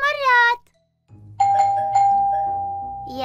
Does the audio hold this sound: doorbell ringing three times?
yes